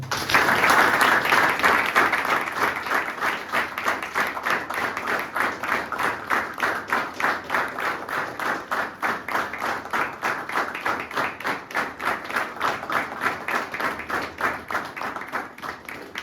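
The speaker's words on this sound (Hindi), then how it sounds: "इसे जोरदार तालियां" People at a rehab centre in Dehradun applaud a first-year sobriety recovery birthday, a long run of loud group clapping that settles into a fast, rhythmic unison beat.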